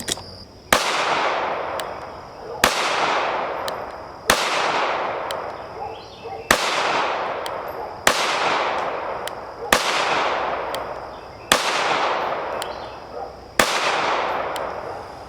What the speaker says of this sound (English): When I was doing rapid fire shots